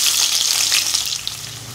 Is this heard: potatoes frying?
yes